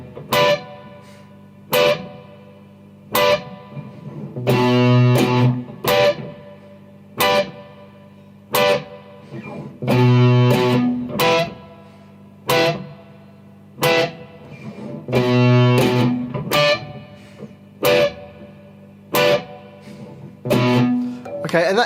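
Distorted electric guitar in standard tuning playing a verse riff slowly, with sharp chugging palm-muted hits and short sustained chords in a repeating rhythm, loud and close with effects.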